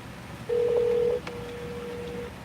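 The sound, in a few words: phone dialing a call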